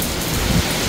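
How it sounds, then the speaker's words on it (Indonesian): Heavy rain with wind during a storm in Makkah, a dense, steady hiss of downpour filling the whole second, with a faint low rumble partway through. "Ini sudah deras ini hujannya ya. Wow, hujan angin ini guys."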